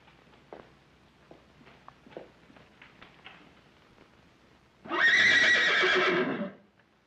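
A horse lets out a loud, long whinny lasting over a second, close and clear, after a stretch of faint scattered knocks and shuffling in a quiet 1936 film scene.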